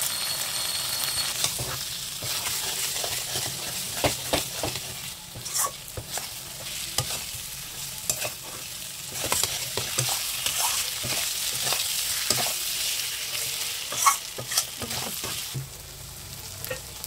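Snakehead fish curry being stirred and sautéed in a pan, a soft continuous sizzle broken by frequent scraping clinks of a spoon against the metal, close up and without talk.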